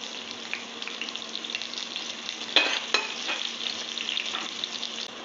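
A small amount of onion sizzles steadily in a pan after cumin seeds and dried red chilli have been tempered in it, making a continuous crackling fry for brinjal bharta, with a couple of sharper spits and stirs partway through.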